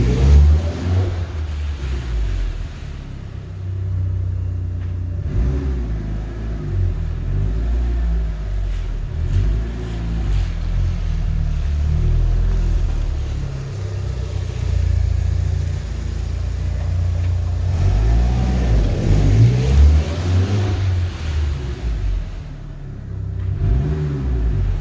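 A Mitsubishi Evo 6 with a rebuilt AYC pump drives slowly up and down inside a unit, its engine rumbling at low revs, rising briefly twice as it pulls away, with no talking.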